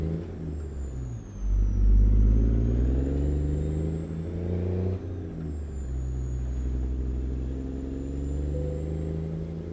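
A heavy-haul log truck in American Truck Simulator revs its engine against the brake in low gear, a steady loud droning roar that surges near the two-second mark and holds a strained hum with a faint high whine, no talking.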